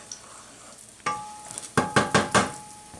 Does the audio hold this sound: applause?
no